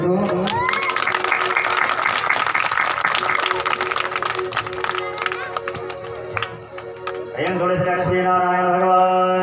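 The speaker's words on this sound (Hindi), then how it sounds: "एक बार आप सभी के लिए जोरदार आप लोग ताली बजा दीजिए तो।" Audience clapping at a Bhagavat katha, dense and steady for the first few seconds and then fading, after which a voice and music carry on alone.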